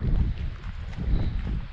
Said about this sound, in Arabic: الريح مجهد بزاف ولكن هاد البلاصة هادي مضرقة شوية